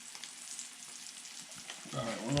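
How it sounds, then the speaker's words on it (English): Fresh whiting and trout fry in hot grease with a soft, steady sizzle and crackle that grows louder and busier near the end. "That's one of my go-tos with fresh fish, frying them up."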